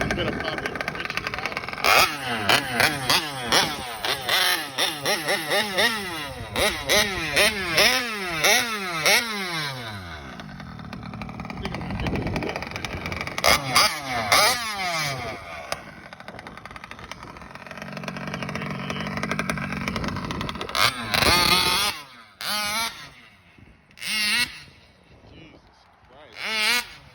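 A 1971 Vespa Supreme scooter engine being broken in idles and revs repeatedly in sharp bursts, close and loud, with pauses and someone talking in between.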